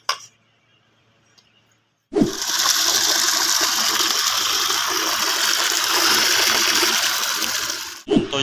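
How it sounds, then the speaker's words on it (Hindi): Water from an opened water pump motor, being checked for a fault, starts abruptly after a quiet moment and runs as a steady, loud rushing gush for several seconds before cutting off. "ये पानी स्लो स्लो आ रहा है"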